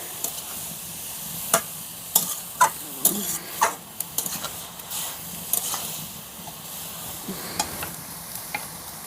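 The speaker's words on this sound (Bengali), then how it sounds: "এবার এটা 15 থেকে 20 মিনিট ধরে ভাজতে হবে।" Grated carrots fry in a pan for carrot halwa, a steady low sizzle running underneath while a spatula scrapes and clicks against the pan at irregular intervals, close and fairly quiet.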